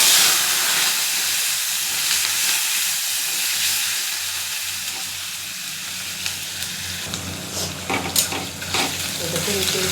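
Potato, vegetables and cumin sizzle steadily in fish oil in a pan, a dense continuous frying hiss with a few stirring clinks and scrapes near the end.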